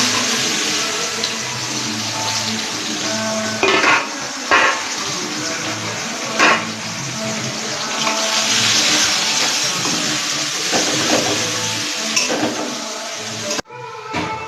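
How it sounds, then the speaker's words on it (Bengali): Chopped onions fry in a pan with cumin, making a steady, loud hiss and sizzle close by, broken by a few clattering bumps of a utensil against the pan. "আমার পেঁয়াজটা ভাজা হয়ে গেছে"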